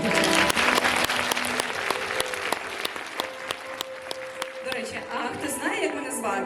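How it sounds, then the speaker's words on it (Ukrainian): A concert audience applauds at a pop singer's touring show, a loud, dense roll of clapping with cheers and voices mixed in, fading slightly midway before swelling again. "Мої оплески вам."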